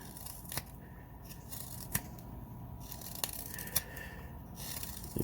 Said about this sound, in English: So we'll just cut right through that wood.